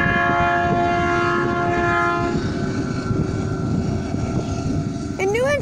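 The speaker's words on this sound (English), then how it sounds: "And it is a passenger car train," A passenger train rumbles steadily past close by in Ohio, its horn sounding a long chord before fading, with a brief squealing tone near the end.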